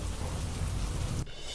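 A heavy downpour falls at Pavagadh, a loud, thick, continuous wash of rain that stops abruptly near the end, with no one speaking.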